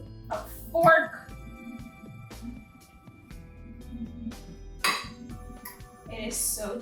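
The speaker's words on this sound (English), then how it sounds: "I'm just gonna go ahead and give this a good stir with a fork" A fork stirs food in a baking dish, giving a few light clinks and scrapes against the dish in short bursts, with a voice and other talk nearby.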